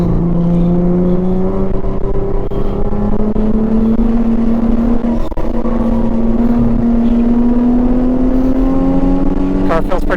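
On a race track, a Nissan 350Z with a JDM engine swap accelerates hard. The engine drones loudly and climbs steadily in pitch, with a brief dip near the middle and an upshift at the end.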